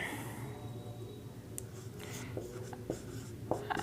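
Hand writing with a pen on paper while working out a chemical equation, faint scratchy strokes arriving in short irregular bursts over a quiet room hum.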